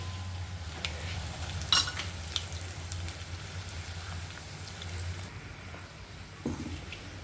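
Green chillies dropped into hot oil sizzle softly, a faint steady crackle with a few sharp pops and stirring clinks.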